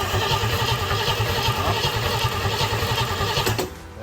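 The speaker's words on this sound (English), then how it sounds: "We use a screwdriver to turn the motor over." A Chevrolet 283 V8 in a Chris Craft boat is cranked over by a starter bridged with a screwdriver, giving a rapid, rhythmic mechanical churning close by that cuts off abruptly near the end.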